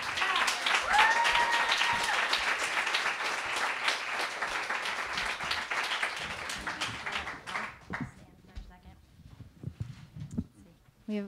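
Big round of applause from an audience at an educators' strike gathering, dense loud clapping for several seconds that thins into scattered claps toward the end.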